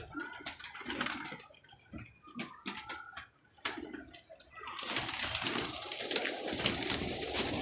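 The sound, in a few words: pigeon cooing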